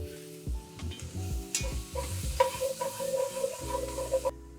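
Cabbage sizzles softly in a single pan, with occasional stirring clatter and small knocks over a quiet, steady hiss.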